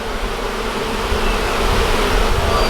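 Dense, steady buzzing of honeybees swarming in the void beneath a shed floor, loud and close, a continuous drone filling the whole stretch with no talk.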